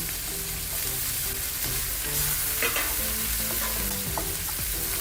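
Chopped garlic and green chili sauté in a pan over high flame, giving a steady close sizzle with occasional scraping stirs and light clinks, no talking.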